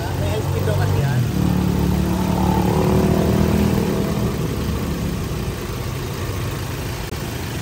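A 2019 Toyota Innova's high-pressure air-conditioning compressor, suspected faulty, runs at high speed as a steady engine drone with a rising and easing hum, while people talk over it.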